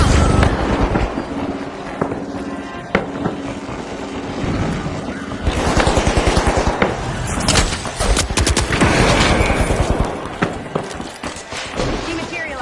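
Grenade and bandit bomb explosions in The Finals go off in a loud barrage, with sharp blasts and rapid crackling bursts mixed with aircraft-like rumble, while an announcer speaks over the action.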